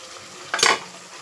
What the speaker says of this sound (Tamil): கருவேப்பிலை கொஞ்சம் போட்டுக்கிறேன்